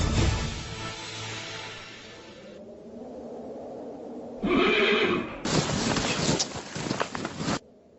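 A horse neighs loudly in a couple of shrill, rising whinny bursts, with some rustling movement between them and no speech.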